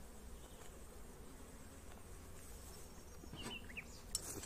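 Honeybees buzz around an opened split hive on a hot June day, a steady, faint, low hum with a few individual bees droning closer past the listener near the end.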